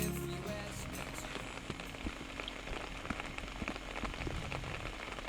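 Steady winter rain falls and patters on surfaces near a river in rural Pyeongchang, Gangwon, South Korea, with scattered close drops over a constant hiss and no voices.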